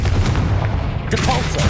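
The Confringo blasting spell in the Hogwarts Legacy video game goes off as a short, loud explosive burst with a crackling tail.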